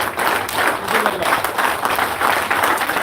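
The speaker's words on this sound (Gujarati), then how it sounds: "સાહેબ એક સ્ટેન્ડિંગ ઓવેશન આપવા માંગીએ છીએ અમે અને જોરદાર તાળી" A standing ovation at a live seminar: dense, sustained applause from a large audience, loud and steady throughout, with the clapping of many hands blending into a continuous roar.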